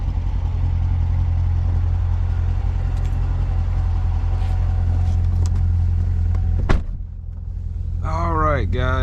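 A Corvette C7 Z51 driving with a steady, loud low engine drone and road rumble throughout, a brief dip near the end, then a short high squealing sweep at the close.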